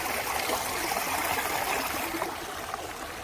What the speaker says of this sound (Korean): 물흐르는 소리